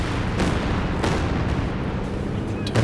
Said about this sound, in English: Long range Calliope barrage again.